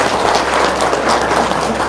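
Audience applause at an Indonesian business seminar, a dense steady wash of clapping filling the whole stretch at fairly loud level, with no voices over it.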